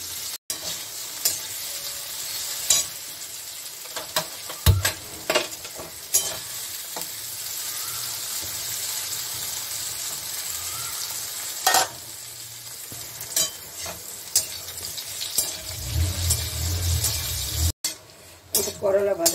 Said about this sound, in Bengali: করলা ভাজাটা হয়ে গেছে